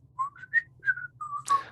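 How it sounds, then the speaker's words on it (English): A person whistles a short tune of several clear, separate notes while climbing stairs during a tabletop role-playing session, the last note breathier and louder. "will whistle on my way up"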